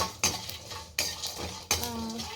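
Tamarind dry roasting in a pan while a metal spoon stirs it, with three sharp scraping clatters of utensil against the pan over a low steady background, and no voices.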